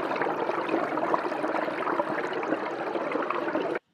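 A recorded waterfall gives a steady, dense rush of falling water, even and fairly loud, that cuts off abruptly just before the end.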